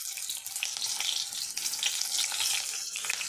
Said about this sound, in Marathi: ही मिरची तळताना पण पण एकदम मंद आचेवर तळायचं